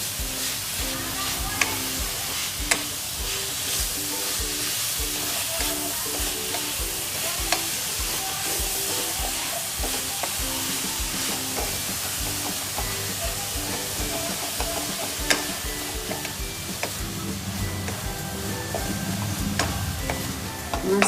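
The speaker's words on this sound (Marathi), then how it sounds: "आता आपण मस्त असं खोबरा त्याच्यामध्ये शिजवून घेणार आहे" Grated coconut cooks in a pan with jaggery and cardamom for a modak filling, producing a constant close sizzle with repeated scraping and stirring strokes.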